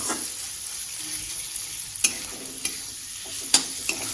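Onion and tomato with turmeric powder stir-fry in a pan for aloo dum, a steady sizzle broken by a few sharp spatula scrapes, with no talking.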